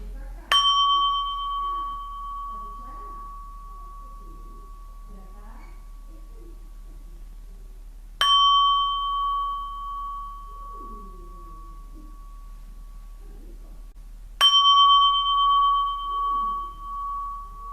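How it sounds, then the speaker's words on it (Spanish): A gong is struck three times, each hit blooming into a bright sustained ring that slowly fades, with faint talk murmuring quietly between strokes. "Voy a tocar el gong."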